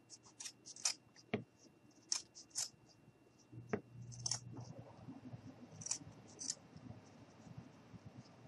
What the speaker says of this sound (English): I'm going to take my scissors and we're just going to cut off the extra.